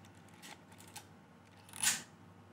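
Winding lever being worked on a Pentax film camera, a sibling of the Pentax SP, to advance the film: soft ratcheting clicks, then a louder scraping rasp near the end, close-up with no talking.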